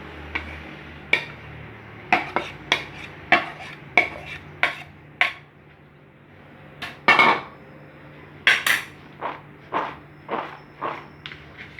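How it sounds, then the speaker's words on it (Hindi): A spoon clacks and scrapes against a bowl while chopped potatoes, onion, tomato and chili are mixed for dahi bhalla, giving a string of sharp, uneven knocks close by with a short pause midway. "और इन सब चीज़ों को भी आपने इसके अंदर मिक्स कर देना है।"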